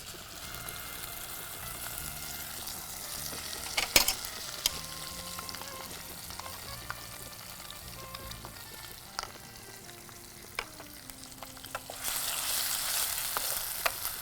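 Curry leaf chutney is stirred into a sizzling tempering in a pan, with quiet continuous frying, scattered clinks and scrapes of a spoon, and a louder hiss toward the end.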